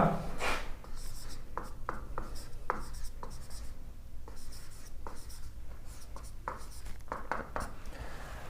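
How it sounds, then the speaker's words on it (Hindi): Pen scratching across paper while given data for a physics problem is written out by hand, a steady run of short rubbing strokes over a constant low background hum, close and fairly quiet, no talk. "तो चलें पहले हम यहाँ पर लिख लेते हैं गिवन डाटा।"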